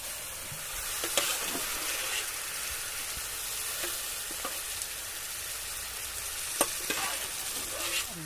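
Chicken frying in a pan with a steady sizzle, stirred with a metal spoon that scrapes and clinks now and then, the spoon hits louder near the start and again toward the end.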